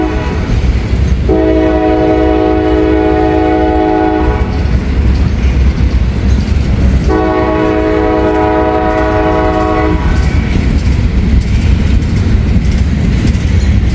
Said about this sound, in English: Norfolk Southern Train 142.